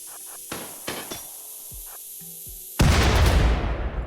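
Charge turrets blown up in the colony game RimWorld: a few sharp thumps and knocks, then a sudden loud explosive blast that rumbles and fades over a second or so.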